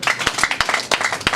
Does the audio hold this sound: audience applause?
yes